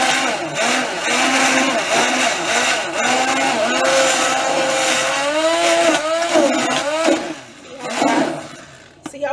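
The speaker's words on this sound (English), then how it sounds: "So now I'm going to stick blend this." A powerful stick blender whirs close by while it mixes a batch of hot-process liquid soap. The motor whine rises and shifts in pitch in continuous pulses, then dips briefly near the end.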